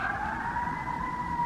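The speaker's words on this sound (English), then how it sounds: "sorry for the sirens, I am currently in the city." Emergency vehicle sirens wail steadily through a city street, a loud sustained two-tone whine over low traffic rumble with no pauses.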